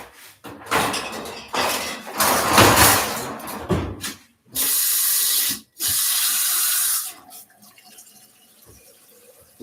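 Water from a tap runs hard into a sink in bursts, with loud steady stretches of hissing flow broken by short pauses, then drops to faint trickles and handling noises near the end.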